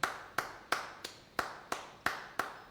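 A single pair of hands claps in a steady, even rhythm to show a tempo, eight crisp, fairly quiet claps spaced about a third of a second apart.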